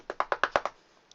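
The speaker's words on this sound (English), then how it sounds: "Blast it all, they were still knocking!" A rapid knocking on a door, six quick evenly spaced raps close up, then a faint single tap after a short pause.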